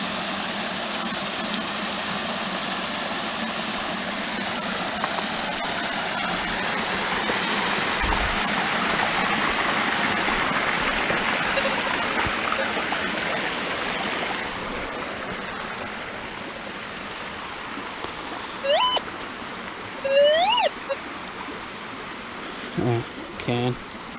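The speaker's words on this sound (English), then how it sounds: "Little series of waterfalls" Steady rushing water from a small series of waterfalls on a creek fills the scene, broad and continuous; later it eases slightly as a few birdlike chirps and light knocks appear.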